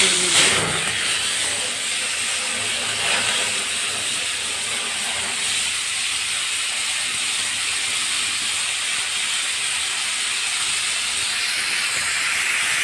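Loitta fish fries in very hot oil with turmeric, chili, salt and onion, a loud continuous hissing sizzle that bursts strongly at first, then settles into a steady spitting roar without any talking.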